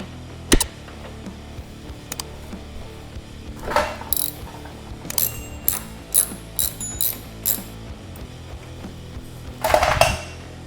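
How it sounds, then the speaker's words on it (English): A ratchet works a bolt loose from a Harley-Davidson passenger footboard support, with sharp clicking bursts scattered across a quiet garage background. Several rapid ratchet runs come close to the mic, and a louder metallic clatter lands near the end. "so we'll go ahead and remove the top bolt first"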